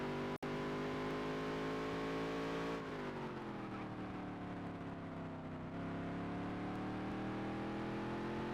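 Featherlite modified race car engine on a qualifying lap, a loud, steady onboard drone with strong harmonic tones that drop in pitch at about three and six seconds as the driver lifts, then pull back up, with no talk.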